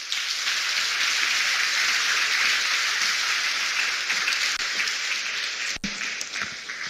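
An audience applauds speaker Hajia Bahijatu Abubakar at the launch of an environment club and society in Nigeria, a dense, steady wash of many hands clapping that holds evenly throughout and tapers slightly near the end.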